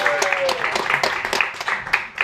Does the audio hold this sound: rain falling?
no